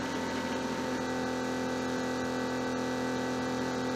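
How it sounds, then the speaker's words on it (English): A Drinkworks Home Bar cocktail machine runs steadily while preparing a drink, giving off a constant mechanical hum with a strong tonal drone that holds unchanged for the whole stretch, close and alone with no talk. "And here it's preparing the drink."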